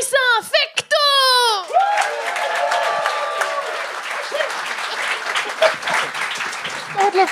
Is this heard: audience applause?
yes